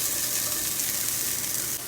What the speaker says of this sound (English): It just needs to be hot enough for the onions to fry in it